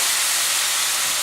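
White clam sauce with clam juice boils hard in a pot on an overheated stove, giving a loud, close, steady hiss and rolling bubble with no voices.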